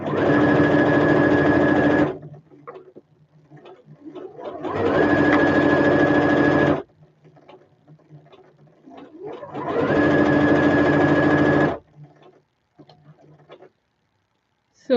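Domestic sewing machine running a straight stitch in three long, steady bursts of motor whir and needle clatter, close and loud, separated by brief pauses with faint handling sounds.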